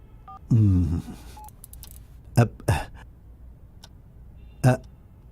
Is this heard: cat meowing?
no